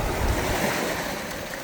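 Steady rush of surf breaking nearby on a rocky shore, with broadband wash and wind noise filling the whole clip, no voices.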